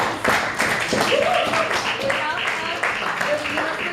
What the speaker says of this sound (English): please put your hands together and give a round of applause to Shweta Kushalman